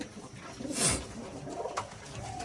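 A few soft coos from native domestic pigeons on a pigeon farm rise and fall close by, with a brief rustle between calls and no voices.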